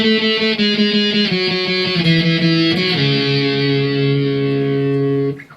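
Electric guitar through distortion plays the solo-like bridge of a song, a short run of sustained lead notes stepping down in pitch, then one long ringing note fading out, loud and alone.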